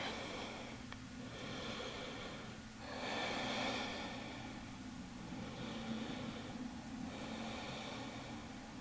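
Slow, deep breaths during a yoga forward fold come in soft, audible cycles of inhaling and exhaling, close and faint over a quiet hiss, with no talking.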